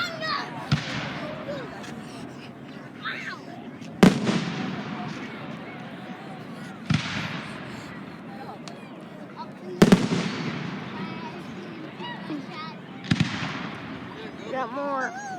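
Fireworks go off outdoors in a series of sharp, loud bangs a few seconds apart, each followed by crackling and fizzing, with people talking and cheering in between.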